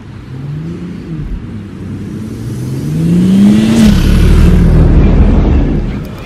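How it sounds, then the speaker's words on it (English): A 2018 BMW 440i xDrive's engine rises steadily on snowy mountain roads near Sölden, a continuous rumble and whir that builds in loudness and holds strong under acceleration, with no talking. "Just a short video driving the snowy roads here."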